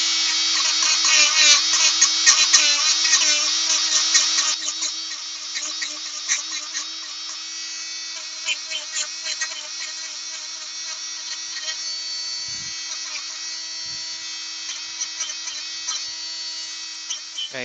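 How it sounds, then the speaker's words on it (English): A power drill whines steadily and loudly while boring a hole in wood for an acorn box, rougher and busier at first as it cuts, then settling into a smoother high whir. "we're going to have to make one on its own and drill a hole and put it in."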